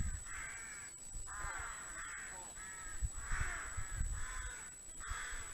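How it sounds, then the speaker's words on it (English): Crows caw repeatedly outdoors in spring, a steady series of harsh calls from a group of birds at moderate distance over low wind rumble and a constant thin high hum. "Yeah, blooming crows."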